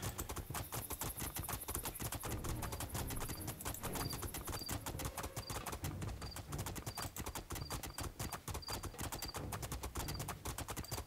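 Horse galloping in the video game Two Worlds 2, a loud, fast, continuous drumming of hoofbeats that runs evenly through the whole stretch, with no talk over it.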